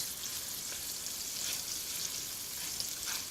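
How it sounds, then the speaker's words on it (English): Pak choy with onions and prawn stock sizzles in a hot pan during a Malaysian cooking class, a steady, even frying hiss with faint stirring, moderately quiet and without talk. "your prawn stock. Give it a quick stir."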